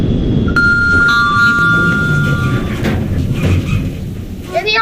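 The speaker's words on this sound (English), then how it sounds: "Chimes twice when going up." Lift chimes at the Camden Hotel ring out as clear, sustained electronic tones, a couple of overlapping dings over the low rumble of the moving car and some background shuffling.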